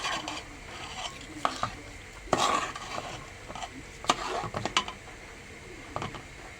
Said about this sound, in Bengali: চালটা আমি এখন ভালো করে বাইজে নিব।